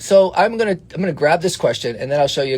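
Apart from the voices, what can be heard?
No everyday noise stands out behind the speech.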